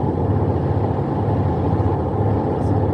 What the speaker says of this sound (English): Cars approaching.